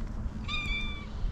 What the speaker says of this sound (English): What a cute meow.